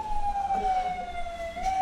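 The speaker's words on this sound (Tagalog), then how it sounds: "Ay, may ambulansya na tumutunog" A siren wails steadily throughout, a sustained high tone with a slow downward drift, over a rumble of traffic noise.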